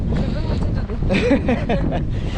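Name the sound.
wind during ultramarathon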